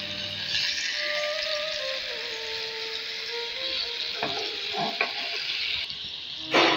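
Tandoori chicken pieces sizzle steadily in a hot pan, a continuous frying hiss with a few soft clatters as the pieces are turned over, ending in a brief louder scrape.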